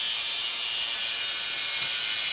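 Handsaw cutting downward during installation of a Brough Performance F2B/H2B kit, a steady rasping hiss that runs continuously and loudly throughout, with no talking.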